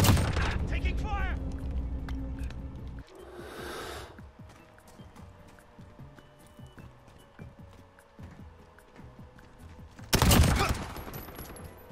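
Gunfire in the Call of Duty Modern Warfare video game, with bursts of automatic fire at the start and a loud blast near the end, faint battle noise between and game voices at times.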